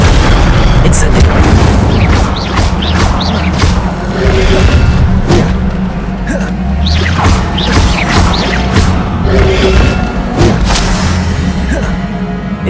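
Spell-casting in Hogwarts Legacy on PS5, with Incendio fire bursts: a dense, loud run of repeated booming blasts and crackling whooshes over constant game effects and rumble, with chanted voices overlapping throughout.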